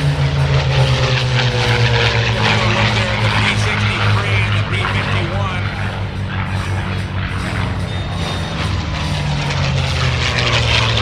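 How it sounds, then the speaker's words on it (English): A Messerschmitt Bf-108 Typhoon takes off at an airshow in Chino, its propeller engine droning loud and steady with a wavering pitch, surrounded by crowd and wind noise. "Taking off now is the Messerschmitt"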